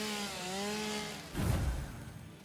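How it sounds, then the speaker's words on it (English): A chainsaw in Satisfactory whines with a rising, wavering tone, then bursts into a loud, rough cutting roar before fading slightly. "The chainsaw is so loud."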